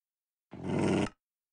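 Wild dog in Minecraft giving a single short, low growl lasting about half a second, heard alone against silence.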